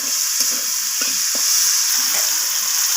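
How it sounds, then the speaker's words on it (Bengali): Bright, steady sizzle of peas frying in a pan, with a few soft scrapes and knocks from stirring, close and constant. "মটরশুঁটিটা দিয়েও আমি আবারও ভাজা ভাজা করে নিচ্ছি সব কিছুর সাথে"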